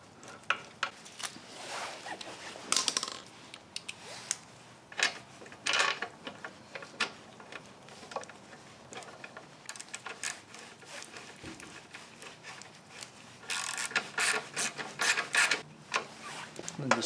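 Bolts being tightened by hand tool on a Bolens lawn mower engine after refitting the governor spring, giving quiet clustered ratcheting clicks and scrapes in short bursts with pauses between, close and fairly soft.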